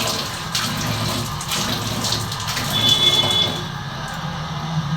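Water runs from a tap in steady, moderately loud splashing while someone washes their face, with a faint background hum from a motor and a few light clatters.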